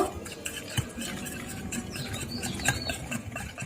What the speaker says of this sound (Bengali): ভালো মতো ফেটিয়ে নিব